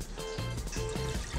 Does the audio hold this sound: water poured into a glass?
yes